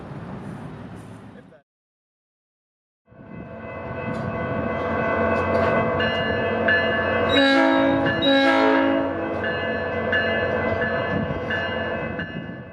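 A train rumbles past steadily after a brief silence in central Florida, its horn blaring in two loud, sustained blasts midway through the pass.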